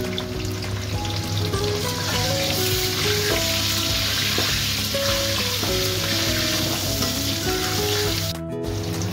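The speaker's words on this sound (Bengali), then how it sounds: "অল্প একটু আলুর মধ্যে নুন দিয়ে দেব আর হলুদ দিয়ে ভেজে নেব" Potatoes seasoned with salt and turmeric fry in a pan with a dense, continuous crackling sizzle, loud and close throughout, over a faint steady hum and a quiet, wavering melody in the background.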